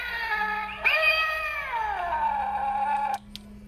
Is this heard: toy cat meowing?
yes